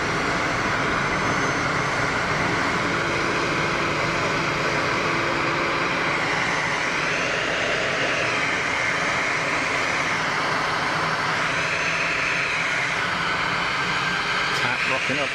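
A Swiss airliner lined up on the runway at Geneva Airport makes a loud, constant jet engine roar with a whining tone that rises and falls slightly. It stays dense and steady throughout, and a voice may sit faintly underneath.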